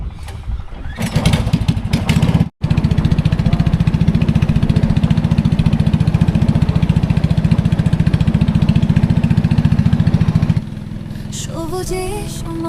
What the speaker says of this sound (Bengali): ওই ইঞ্জিন স্টার্ট দেওয়া হইতেছে।